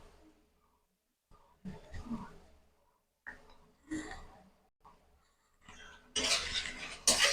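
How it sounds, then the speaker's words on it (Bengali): A spoon clinks and scrapes in a pan as mustard and green chilli paste is mixed into cooking spinach, short bursts of stirring separated by quiet gaps, closer and louder at the end. "সর্ষে কাঁচা লঙ্কা বাটাটা ভালো করে মিশিয়ে দেবো"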